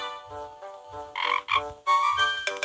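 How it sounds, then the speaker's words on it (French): A frog in a Roblox camping game croaks in a rhythmic series of short, buzzy calls, clear and close, with no one talking over them. "Il y a une grenouille."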